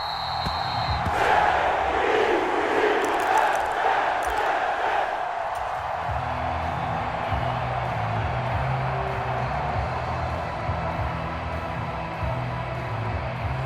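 A roaring home stadium crowd fills a Madden NFL 23 AFC wildcard playoff game, loud cheering and whooping swelling early, then settling into a steady murmur of spectators.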